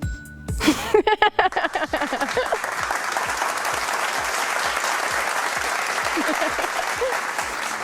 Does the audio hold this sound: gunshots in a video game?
no